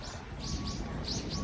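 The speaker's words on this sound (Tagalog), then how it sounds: "Mga ibon." Birds chirp in a repeating series of bright, quick calls on a mountain in Seoul, South Korea, over a steady outdoor rumble, moderately distant.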